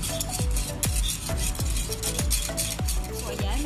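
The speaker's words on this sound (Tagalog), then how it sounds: "Halu-haluin lang natin. Halu-haluin." Spoon scraping and stirring thickening caramel in a pan, with rhythmic repeated strokes roughly every half second, close and steady, with no talking.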